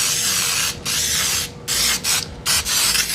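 Baker's Joy baking spray hisses onto a baking pan in several short bursts of varying length with brief gaps between them, close and fairly loud, with no talking.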